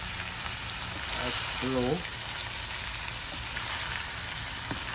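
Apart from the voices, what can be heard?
stirring ackee and saltfish frying in a pan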